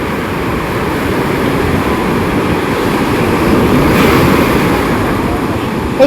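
Steady roar of sea waves washing onto Pir Jahania beach at Astaranga on the Odisha coast, a continuous broadband surf wash with wind noise, swelling slightly near the end, no voices.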